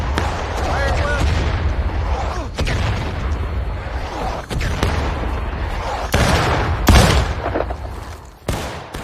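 Musket volleys and scattered shots of Civil War fire in the War of Rights video game, loud cracks and booms at irregular intervals along a fence line, with a voice talking in between.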